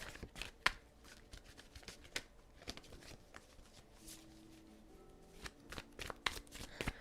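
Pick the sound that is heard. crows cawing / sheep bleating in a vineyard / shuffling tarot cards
shuffling tarot cards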